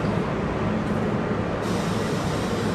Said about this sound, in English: There's the A trains coming on this side